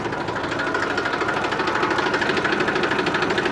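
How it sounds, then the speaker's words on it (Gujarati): A tractor engine fitted with a fighter silencer runs close up, its rapid rhythmic thudding pulse steady and loud throughout. "ફાઇટર સાયલેન્સર પણ છે ટ્રેક્ટરમાં આપણે"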